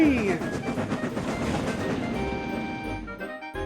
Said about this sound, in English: Stepney the Bluebell engine loves running along his special railway.